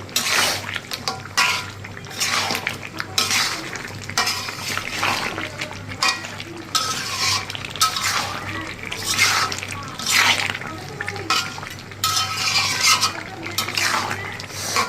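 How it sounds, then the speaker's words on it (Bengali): Chicken from a laying hen is stir-fried with ground spices in a pan, with repeated scraping and stirring strokes in bursts over a low sizzle and faint background noise. "এখন ভালোভাবে কষিয়ে নিব বেশ কিছুক্ষণ"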